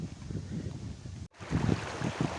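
The Çat Deresi river near Hocaoğlu village in Şebinkarahisar flows in a steady, close rush of water with a brief cut partway through.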